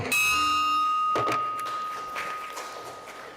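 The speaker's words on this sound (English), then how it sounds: "I'd like to ring the bell for Marissa as well." A bell rung once at an Oakland Rotary Club meeting gives a loud, clear strike whose bright tone lingers and slowly fades over quiet room noise and light clatter.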